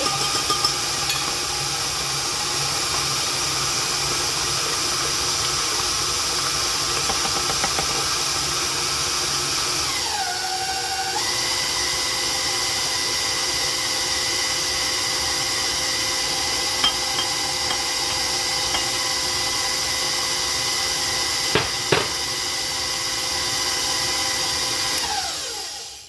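Electric mixer beating New York cheesecake batter, a loud, steady motor whine held close for the whole stretch, with a brief speed change partway through and a few knocks against the bowl, no talking.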